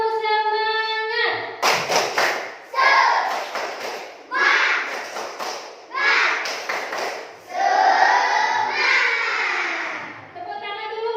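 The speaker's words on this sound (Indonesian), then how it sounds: "Ibu minta tepuk semangatnya." Class of third-grade schoolchildren doing a rhythmic spirit clap in a classroom, sharp clapping bursts in patterned groups mixed with children chanting along, led by a teacher's voice.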